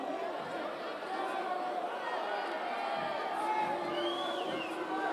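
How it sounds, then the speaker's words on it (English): Wrestling arena crowd at an Asian championship final, a continuous murmur of upset chatter and scattered calls rising and falling after a scoring call, with a commentator speaking over it. "This crowd is upset."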